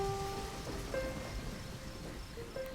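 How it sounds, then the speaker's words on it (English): Steady rain patters in the Deadly Premonition video game, a soft even wash of falling water at low volume with faint tonal game sounds above it. "you're standing in the rain and letting your dress get drenched?"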